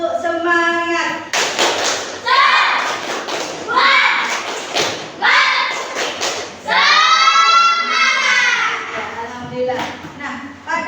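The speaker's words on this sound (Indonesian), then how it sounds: "Tepuk semangat." A classroom of children performs the 'tepuk semangat' rhythmic clapping chant, loud claps and thumps beating in patterned bursts with the kids' voices chanting along between them.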